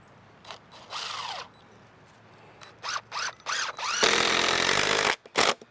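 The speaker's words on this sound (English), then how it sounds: "we're gonna screw it in there" A power drill drives a screw in several short bursts, each whirring up and winding down, then one longer sustained run near the end, close and loud with quiet pauses between bursts.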